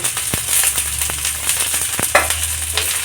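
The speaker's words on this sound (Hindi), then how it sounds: "चला के थोड़ा फ्राई कर लेंगे।" Vegetables, finely chopped beans, carrot and capsicum, sizzle loudly as they are stir-fried in a pan for street-style veg fried rice, with a steady hiss broken by sharp spatula scrapes and clicks against the pan.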